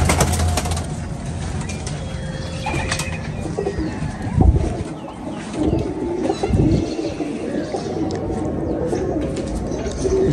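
Domestic flying pigeons coo continuously in a low, throaty rhythm, close and fairly loud, with occasional wing flutters and clanks of mechanism in the background; no talking.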